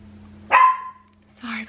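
A spoiled small dog yaps twice indoors, a sharp bark followed about a second later by a shorter, softer one, close by with no speech over it.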